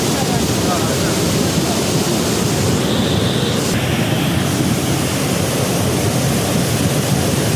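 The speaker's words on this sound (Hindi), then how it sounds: "सर अब पानी ज्यादा आ रहा है, तो टच कर रहा है वहाँ।" Rushing floodwater in a mountain stream swollen by a cloudburst, a dense, steady roar filling the scene throughout, with faint voices beneath it.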